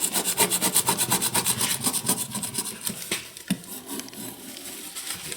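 A scraper drags repeatedly across old vinyl wrap on a vehicle, giving close, rhythmic rasping strokes that are busiest early, then thin into slower, scattered scrapes.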